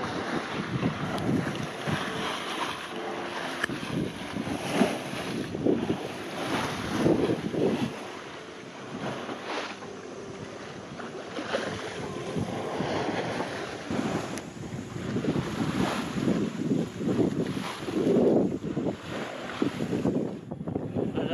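A sailboat under full sail, close hauled at about 4.5 knots off Eleuthera: continuous wind buffeting and rushing water against the hull, steady and fairly loud with gusty swells, no voices.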